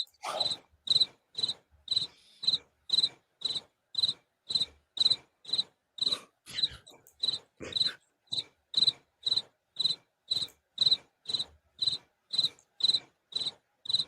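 A cricket chirps in a steady, evenly spaced rhythm, about two crisp pulses per second, repeating clearly against an otherwise quiet background.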